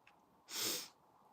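A single sharp sneeze bursts out during a business presentation in a quiet room, loud and breathy for about half a second, then fades back to near silence.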